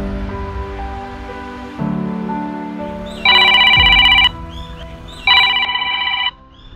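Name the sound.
mobile phone ringing with an incoming call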